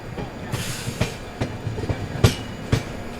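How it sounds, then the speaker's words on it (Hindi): A train rolls into Prayagraj station, its wheels giving a rhythmic clickety-clack over the rail joints, moderately loud with sharp periodic thumps above a steady rumble. "आप देख सकते हैं वेब 7 के साथ कोई ट्रेन प्रयागराज चौकी पे एंट्री लेते हुए"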